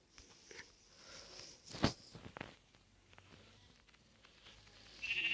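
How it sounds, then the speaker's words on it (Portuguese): Sheep in Minecraft Pocket Edition bleat in short, faint calls, one sharper cry standing out amid quiet game sounds and soft steps. "Quer matar essa ovelha? Ali tem mais 2 ovelhas."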